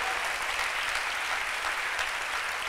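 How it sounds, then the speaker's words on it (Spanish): Sustained, dense applause from a church congregation during a Catholic priest's sermon, steady and even throughout with no talking over it. "Denle un aplauso fuerte al Dios de la vida"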